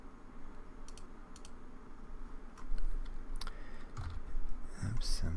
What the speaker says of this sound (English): I'm typing in the wrong spot